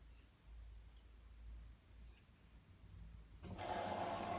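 A Beko WM85135LW washing machine under fault testing starts filling, a soft hush of inflowing water that rises suddenly after quiet low hum, fairly faint and without talking.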